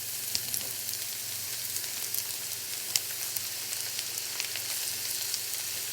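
Oyster mushrooms frying in a full stick of butter: a bright, steady sizzle up close, dotted with small crackles and soft stirring clicks, over a faint low hum.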